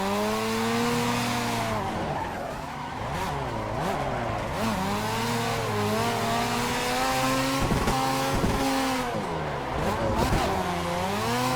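Racing video game cars drift in tandem, with engines revving loudly and tires squealing in long, wavering skids that rise and fall throughout, close and continuous.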